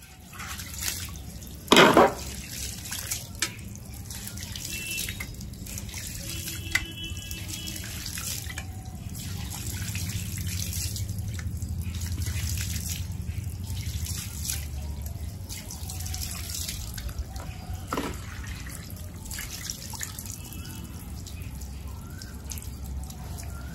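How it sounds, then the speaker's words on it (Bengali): Running tap water splashes steadily over a large raw catla fish being washed in a sink, a continuous hiss with occasional louder splashes and drips, no talking. "তো চলো মাছটা এখন ধুয়ে নিই।"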